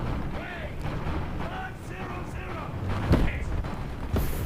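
Tank cannon in War Thunder Mobile firing at a Panzer III, two sharp booms a second apart standing out from a steady engine rumble, with someone talking over the battle noise.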